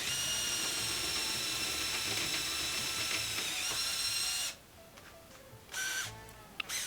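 A 3/8 drill bit boring into metal gives a steady high whine for about four seconds, then it drops off and returns in a short burst. It is fairly faint, with no talk.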